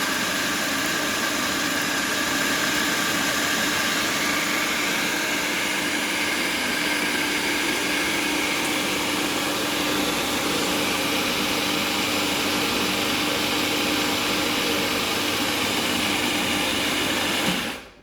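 A kitchen food processor whirs steadily and loudly for about eighteen seconds while blending a homemade chocolate spread, a constant motor drone that cuts off abruptly at the end.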